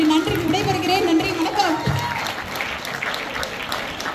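An audience at a Tamil debate event in Canada breaks into sustained applause after a speaker finishes. Voices and cheers mix in at first, then dense, even clapping carries on at a steady level.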